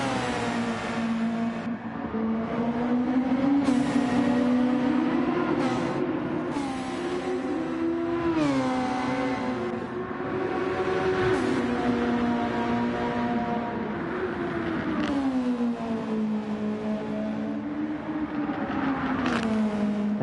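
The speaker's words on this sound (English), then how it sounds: "There's the New Zealand themed Super Formula, the Flying Fern, flies down the start-finish straight to start lap 23" A New Zealand-themed Super Formula race car in Gran Turismo 7 screams down the start-finish straight at Trial Mountain, its high engine note loud and close, rising and dipping through gear changes across a steady, continuous run.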